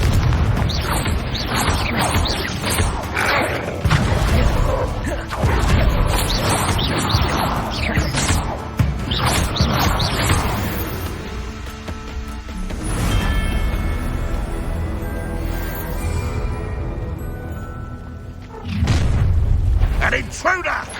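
Repeated Confringo fire-spell blasts in the Hogwarts Legacy video game, a string of booming explosions and bursts mixed with spell-casting voices and game effects throughout.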